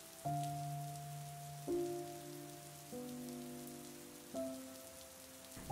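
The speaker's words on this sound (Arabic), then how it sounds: "حبات المطر عم تخبط على شباكك" Raindrops patter steadily against a window as a soft, continuous wash, with sustained musical tones changing every second or so over it.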